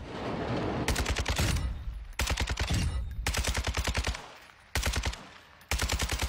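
Rapid automatic gunfire in a video game, emptied into a target dummy: four loud, close bursts of fast repeated shots separated by short pauses.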